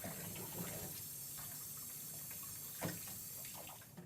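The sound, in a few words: water running through trumpet tubes to rinse off soap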